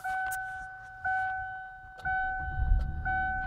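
A car's engine starting by remote start while parked in a driveway: a steady electronic chime tone pulses about once per second, then the engine cranks and catches into a low rumble near the end.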